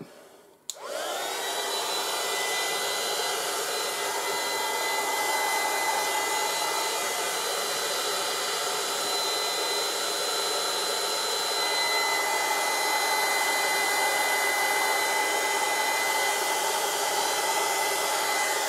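A steady, loud hair dryer blows continuously after a brief click at the start, its airy whine unchanging throughout with no voices.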